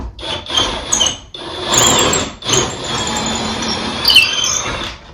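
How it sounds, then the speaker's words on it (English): Grinding, rasping drilling into wood, steady and close, with a couple of brief pauses and a high squeal near the end. "we can always drill it out a little bit more later on in the process"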